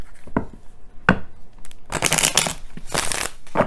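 Tarot cards being shuffled by hand during a love reading, heard as a few quick dry riffles and slaps, with short bursts of papery rustle spread over a few seconds.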